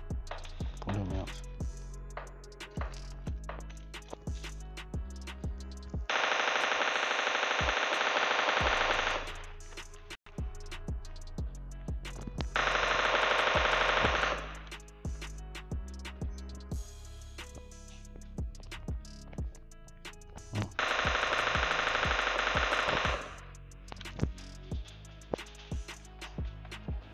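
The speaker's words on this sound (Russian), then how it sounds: "пулемет." Machine gun fire in PUBG Mobile Lite, with three sustained bursts of a few seconds each standing out over a steady stream of scattered gunshots and game sounds.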